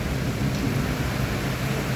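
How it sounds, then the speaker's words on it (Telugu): Heavy rain pours steadily over Hyderabad streets during a thunderstorm, a dense, loud, unbroken roar with low thunder rumbling beneath it. "భారీ ఉరుములు నడుమ భారీ వర్షం కురుస్తున్న"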